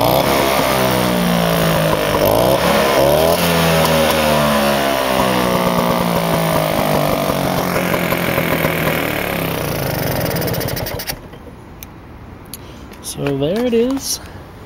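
A Vespa scooter with a rebuilt top end revs loudly and close for several seconds, pitch rising and falling in repeated throttle blips, before dropping to a quieter idle with a final short rev.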